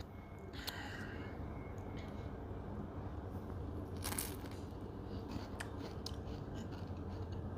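Bites into a crunchy Eritrean sambusa filled with beef mince at a Brisbane restaurant give a few faint, sharp crunches over a low, steady room hum.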